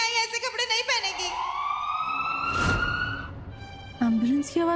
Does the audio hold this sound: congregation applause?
no